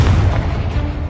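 A short, heavy boom from a Confringo blasting spell in Hogwarts Legacy, a single deep thud with a brief rumbling tail, loud and close.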